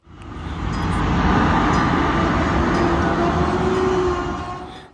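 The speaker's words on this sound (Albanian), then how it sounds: "Ky tren që kaloi i bie sirenës për të evituar më të keqen" A train passes over a level crossing with a loud, steady rumble that swells and fades. A faint sustained horn tone sits beneath the roar.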